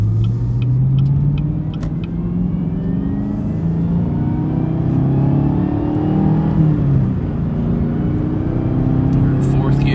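Chevrolet Camaro ZL1 1LE accelerating through fourth gear on a road at night, a loud continuous rumbling engine drone from inside the car with pitch shifts as revs climb and fall.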